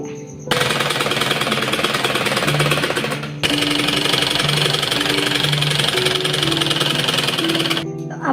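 A sewing machine stitches two pieces of fabric together for a kurti made from leftover cloth, running as a steady, loud, rapid mechanical hum that stops briefly and then runs on again.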